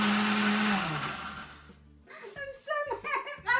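An Ace Plus blender whirs loudly as it blends a peanut butter banana smoothie, its motor winding down and stopping after under two seconds, then a person talks and laughs nearby.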